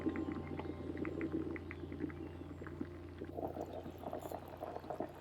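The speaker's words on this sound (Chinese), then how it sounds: "加入莲藕块，加入红枣和花生，大火将水再次烧开" Water in a pot of lotus root soup with pork ribs, lotus root chunks, red dates and peanuts comes back to a boil over high heat, bubbling and popping steadily throughout.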